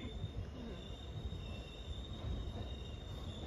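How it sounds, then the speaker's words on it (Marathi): A passenger train rolls along at night, heard from inside its fourth coach, with steady loud rumble and a sustained high metallic wheel squeal running throughout. "ट्रेनवाला सारखं हॉर्न वाजवते आणि आमचा डबा तर चौथा आहे, त्यामुळे सारखा आवाज येतोय"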